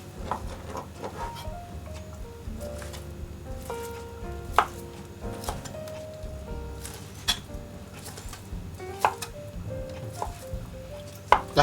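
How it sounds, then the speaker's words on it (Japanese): A knife chops ham on a cutting board in a kitchen, with steady, close taps repeating through the whole stretch, some knocks sharper than others, over soft background music. "ハムを切ります。"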